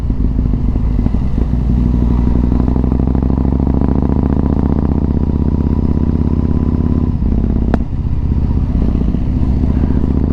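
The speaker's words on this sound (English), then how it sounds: "Probably getting fed up with being blasted by my exhaust note" A motorcycle engine's deep, throbbing exhaust note held steady up close, with a brief dip and a sharp click near the end.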